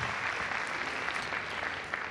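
An audience at a live stand-up comedy show at Casino Estoril claps in a steady, dense wash of applause that continues without a break for the whole brief stretch.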